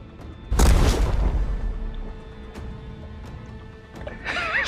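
A loud, close torpedo explosion rips into a ship in Warhammer 40k: Rogue Trader, a single deep boom that decays slowly into a rumbling tail, followed near the end by a brief warbling electronic tone.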